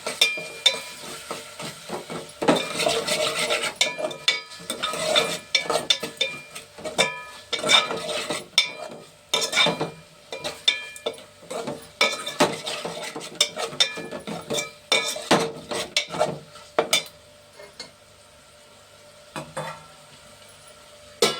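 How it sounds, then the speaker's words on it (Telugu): Food frying and being stirred in a pan, with a steady sizzle broken by frequent scraping and clinking strokes of a spoon against the metal. The sound is close and busy, fading quieter near the end, with no talking. "మంచిగా ఫ్రై చేసుకోవాలి."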